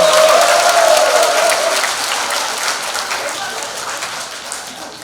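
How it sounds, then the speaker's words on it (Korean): A crowd at a political rally in Jungnang fills the room with dense, sustained applause that starts loud and gradually fades, with a brief voice over the opening moments. "박홍근 국회의원님께 다시 한번 뜨거운 박수 부탁드리겠습니다"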